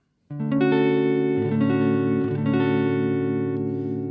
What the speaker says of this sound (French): je vais vous faire écouter sur un accord de Ré majeur 7 les différents sons sur les différentes positions de micro